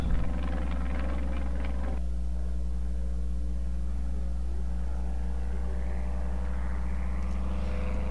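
Continuous loud propeller engine drone with a steady low hum and harmonics from a homebuilt Midget Mustang small airplane in flight, heard from inside or nearby, no voices.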